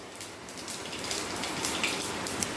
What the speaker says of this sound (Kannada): ಒಂದು ಸ್ವಲ್ಪ ಸಾಸಿವೆ ಹಾಕ್ತಾಯಿದ್ದೆ ಸಾಸಿವೆ ಸಿಡಿಲಿಕ್ಕೂ